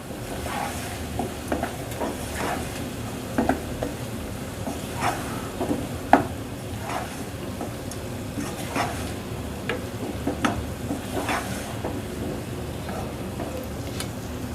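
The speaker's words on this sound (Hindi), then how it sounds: "अब इन सब चीज़ों को अच्छे से मिक्स कर लेंगे" Potatoes with garam masala and spices sizzle steadily as they fry in a pan, with scattered soft scrapes and knocks from stirring over the constant hiss, close and moderately loud.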